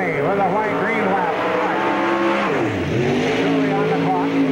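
Loud engine howl from a late model race car at Spoon River Speedway, the pitch sweeping down and back up as it passes close by, with an announcer speaking throughout.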